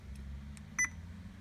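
A car stereo gives a single short electronic beep as the steering wheel remote hang-up button is pressed, brief and clear over a low engine hum, with no voices.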